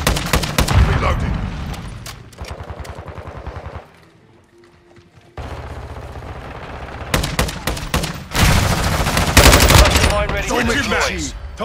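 Heavy automatic gunfire in Call of Duty: Modern Warfare II during a Team Deathmatch on the Mercado Las Almas map: loud, close bursts and rapid volleys, a brief lull midway, then even denser firing toward the end.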